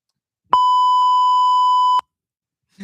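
A single steady electronic censor bleep, about one and a half seconds long, cuts sharply over a person's speech, loud and pure-toned, with a brief voice fragment after it.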